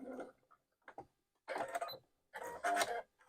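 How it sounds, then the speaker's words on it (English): A sewing machine stitches a wallet snap tab in short bursts of rapid mechanical whirring, quiet and close, separated by brief pauses. "We will be sewing over this a couple of times,"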